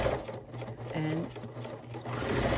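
A sewing machine stitches a chained run of quilt pieces with a fast, continuous mechanical whir and a few brief pauses, close and steady.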